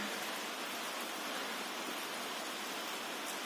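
Heavy continuous mountain rain near Bumla Pass, Tawang, a steady even hiss without break, fairly soft and unchanging.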